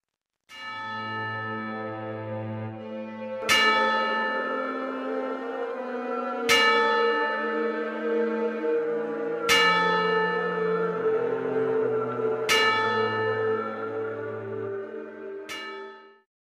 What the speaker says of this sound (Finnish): Silloin soivat Kauhavan kirkonkellot ja ilmastokoulun sireenit.